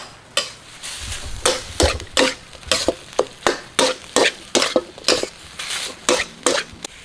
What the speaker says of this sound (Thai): น้ำปลา น้ำตาล แล้วจะคั่วต่อ นี่นะครับคั่ว